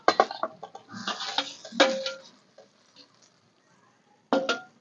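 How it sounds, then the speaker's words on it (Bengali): Fried potato, pointed gourd, eggplant and pumpkin are stirred with spices in a pan: a spatula scrapes and clanks against the metal in quick irregular bursts, close and clear, then pauses before one more clatter. "এবার এগুলো মশলার সঙ্গে খুব ভালো করে মিশিয়ে নেব।"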